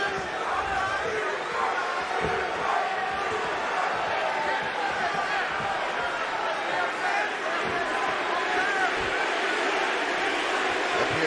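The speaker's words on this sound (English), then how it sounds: "Appears to be a pro-Stipe crowd here tonight." A steady, dense roar from an arena crowd as a UFC heavyweight fight between Stipe Miocic and Daniel Cormier begins, a constant murmur of cheering and chatter at even loudness with no distinct peaks.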